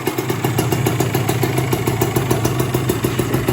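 A Kawasaki ZX150 motorcycle engine idles steadily up close just after starting, a constant rumbling putter with light mechanical clatter and a high whine on top.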